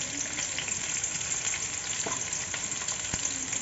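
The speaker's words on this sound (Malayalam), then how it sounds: "ഫ്രണ്ട്സ്, ഈ ഗ്യാപ്പിൽ നമുക്ക് നമ്മുടെ സവാള ഫ്രൈ ചെയ്തെടുക്കാം." Three large sliced onions sizzle steadily in hot oil in a pan for a beef biryani, a dense continuous frying hiss broken by a couple of brief stirring scrapes, close and even throughout.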